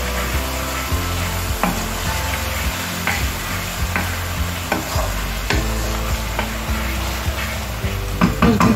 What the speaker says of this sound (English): And I'm just going to stir this.